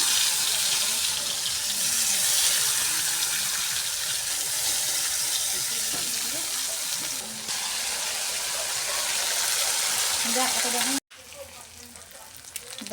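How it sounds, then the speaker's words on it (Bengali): Turmeric- and salt-coated prawns frying in hot oil, a steady loud sizzle with crackling and occasional stirring, cutting off abruptly near the end before resuming more quietly. "তেল গরম হয়ে গেছে, এবার মাছগুলো ভেজে নেব।"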